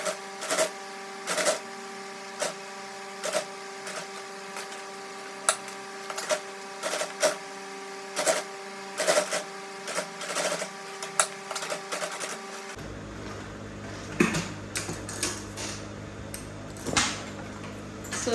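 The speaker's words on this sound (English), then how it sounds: "then you come back and sew down" A sewing machine stitches a seam on an Aso Oke fabric bag, its steady rapid mechanical whir broken by regular clicks and short pauses, close and alone without talk.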